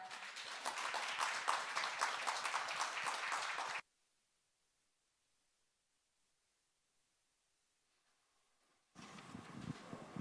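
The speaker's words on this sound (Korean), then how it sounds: "여러분 큰 박수 부탁드립니다." Conference audience applauding panelists as they take the stage, a dense burst of clapping that cuts off abruptly into silence, then starts up again at the end.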